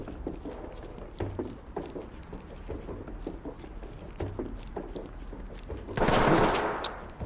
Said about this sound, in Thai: ปืนกลด้วย มันยิงทะลุกระจกออกมาได้ด้วยนะ